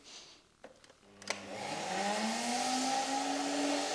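After a few clicks, a vacuum cleaner switches on and spins up into a loud, steady whirring roar that keeps rising slightly in pitch, used to lift excess static grass off model railway scenery.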